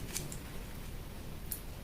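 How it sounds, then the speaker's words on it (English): Scissors cutting out a paper sewing pattern for a bustier: a few faint, crisp snips, two close together near the start and one more after a pause, over quiet room tone. "let's cut out our pattern and see"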